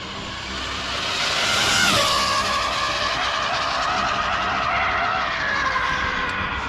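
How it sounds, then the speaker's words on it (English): An Arrma Limitless RC car on an 8S battery makes a high-speed test pass. Its whining, rushing roar swells as it approaches, peaks close by and then trails off steadily, with no voices. "I hear a car coming."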